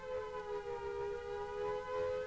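A civil defense siren wails steadily at a distance, a sustained tone with a faint slow rise and fall over a quiet background.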